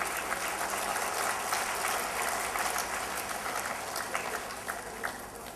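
A crowd claps at a Noni Day 2011 talk on acupressure, a continuous dense patter of many hands held at an even level, fading slightly toward the end.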